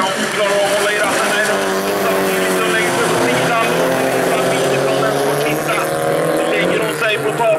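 A Volvo 140 estate races around a rallycross track at Vimmerby, its engine roaring loud and steady with rising and falling revs, mixed with other cars. A commentator's voice talks over the racing.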